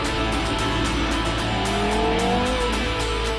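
Porsche Carrera GT supercar driven hard, its engine roaring loudly with a rising, sustained rev that sweeps upward, close and continuous with no talk.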